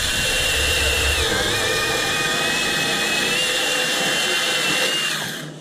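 A Milwaukee M18 Fuel 2826 battery chainsaw cuts through wood under steady pressure, a loud continuous high-pitched whine held for about five seconds before it winds down at the end.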